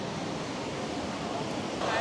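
Tham Phra waterfall in Bueng Kan, Thailand, giving a steady, dense rush of falling water that is fairly loud and unbroken throughout, swelling slightly at the end, with no voices over it.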